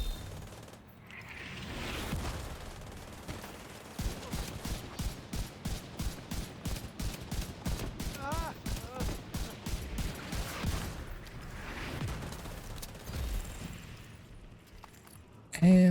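Rapid automatic gunfire in a shooting video game rattles off in a long, steady burst of evenly spaced shots, with quieter stretches of in-game noise before and after and a loud hit at the very end.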